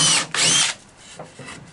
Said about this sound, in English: And then we'll drill this hole here.